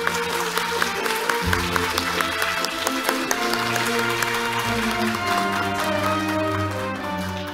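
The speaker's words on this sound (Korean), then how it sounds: "박수로 환영해 주시기 바랍니다." Audience applause at a 2022 Fields Medal commemorative lecture event in a hall, a steady dense wash of clapping over music-like tones and background sound, held throughout without fading.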